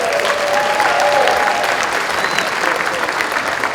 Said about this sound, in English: how about a round of applause for all these great restaurants and wineries